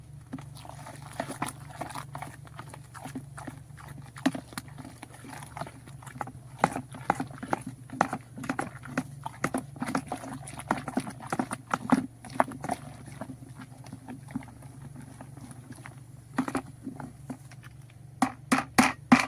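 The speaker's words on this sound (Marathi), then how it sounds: "काठीच्या सहाय्याने असं हलवून घ्यायचं त्याला" Gram flour stirred into water with a wooden stick, repeated sharp knocking and tapping strokes in an irregular rhythm against a container, close and fairly quiet over a steady low hum.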